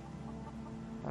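Hens cluck softly in Skyrim with the SkyRe mod, a brief murmur of low farmyard clucking over steady game ambience.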